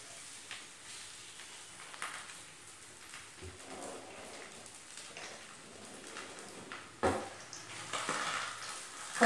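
Roti made from bottle gourd and rice flour fries in oil on a flat pan, giving a steady close sizzle with scraping and clatter, and sharper bursts near the end.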